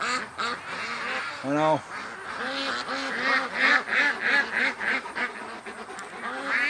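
Ducks quack in rising and falling bursts that continue throughout, with one louder, drawn-out call early on, while a person briefly speaks over the flock.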